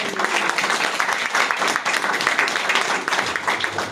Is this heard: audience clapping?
yes